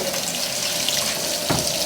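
Water rushes steadily into a Whirlpool washing machine filling with cold water for a towel wash, a continuous hiss and splash close by.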